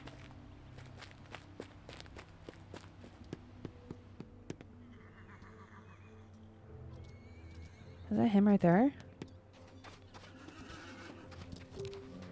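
A horse in a video game whinnies sharply and loudly for about a second, with soft clip-clop hoofsteps and faint game ambience before it and talk nearby.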